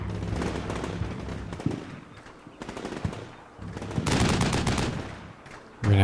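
Gunfire in a realistic US Marine simulator video game: dense rattling bursts of automatic fire with a few heavier shots, loud and sustained, rising into a thick volley near the end.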